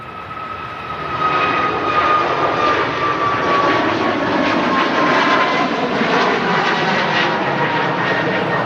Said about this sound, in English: The Sun Express 7-3 heading out to Antalya.